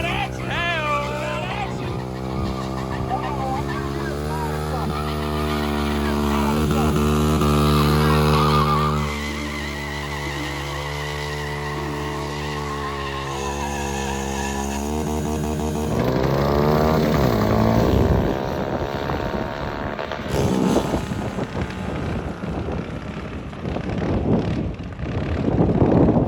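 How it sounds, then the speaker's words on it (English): Mini bikes, including a 190cc CT70 and a 225cc Mega Moto, drag racing at a strip: small engines whine and rev through rising pitch sweeps, passing loudly, with voices talking over parts of the runs. "ripping around on 5 of our favorite mini bikes out there at the drag strip"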